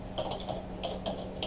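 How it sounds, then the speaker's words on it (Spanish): Quiet keystrokes on a computer keyboard, a handful of soft, irregular clicks over a low steady background hum, with nobody speaking. "si quiero escribir con el propio teclado del ordenador, puedo hacerlo"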